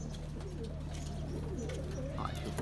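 Rooftop pigeons cooing softly in low, rolling calls over a steady hum and background noise, with a few faint higher chirps.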